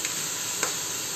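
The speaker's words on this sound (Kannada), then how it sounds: "ಹಾಕಿದ ನಂತರ ಮಿಕ್ಸ್ ಮಾಡ್ಕೋಬೇಕಾಗುತ್ತೆ" A spoon stirs horse gram curry with spice masala in a hot pan, giving a steady sizzling hiss with a couple of faint scraping ticks.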